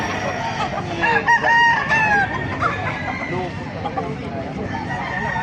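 Several roosters crow over a busy background of clucking chickens at a market, Sweater and Kelso gamefowl, with overlapping calls close by and a farmyard hum throughout.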